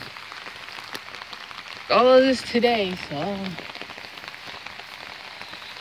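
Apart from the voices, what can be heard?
heavy rain falling near a flooded creek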